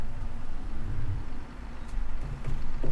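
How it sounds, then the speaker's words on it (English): A truck engine in Farming Simulator 2015 drones as a steady low rumble, moderately loud and close, with faint clicks and no talk. "I can hear the truck, but I don't know if you guys can"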